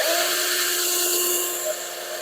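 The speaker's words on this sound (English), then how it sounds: "I'll pre-drill a hole here." A small drill bit pre-drills a hole in a steel Hemi connecting rod, giving a close, steady high-pitched whine for about two seconds that eases slightly toward the end.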